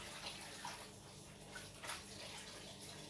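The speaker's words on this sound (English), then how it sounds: "put enough water on again to float it very well while you massage it with your hands" Water sloshing and splashing steadily as hands massage food in a basin to float off the chaff, a continuous close wet churning with small bursts.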